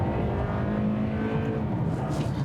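A 2020 Toyota Camry AWD sedan with its base four-cylinder engine and 8-speed automatic accelerating hard, a steady loud engine drone heard from close by, with no talk.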